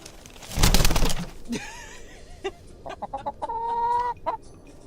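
Urban backyard chickens cluck and squawk at close range, with a loud burst of flapping and squawking early on, then a series of short clucks and drawn-out tonal calls, with no talk over them.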